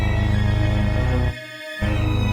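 Music track where an odd, bizarre string figure plays against a deep bass line, dense and loud throughout, with the low end briefly dropping out near the middle before returning; no talking.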